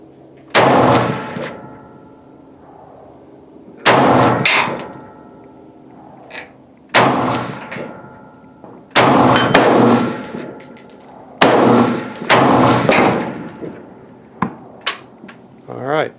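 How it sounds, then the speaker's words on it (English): A Century Arms C308 Sporter rifle fires at steel targets from a standing position, with about six loud, sharp reports spaced a couple of seconds apart, each followed by a brief ringing echo. "Luke's going to shoot the steel from a standing position with the pre-partisan match ammo"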